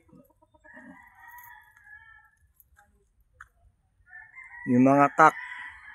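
Several young roosters (stags) crow nearby, one loud crow standing out near the end over a faint background crow and some quiet talk.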